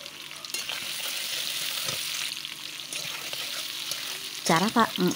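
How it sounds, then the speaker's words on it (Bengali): Fried drumsticks and potatoes go into a pan of sizzling chopped onions in oil, with a continuous hiss and scattered stirring clatter, and a brief voice near the end. "এখন দিয়ে দেবো ভেজে রাখা সজনে আর আলুগুলো।"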